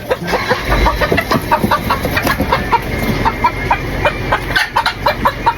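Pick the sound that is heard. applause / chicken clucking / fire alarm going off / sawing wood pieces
chicken clucking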